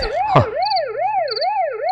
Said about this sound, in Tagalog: Lugan dagiti pulis ti sumungad.